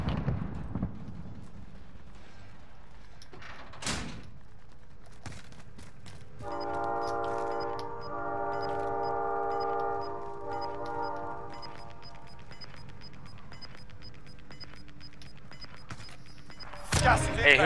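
A train in a video game with a long sustained horn blast in the middle, between sharp bursts and a rumbling background.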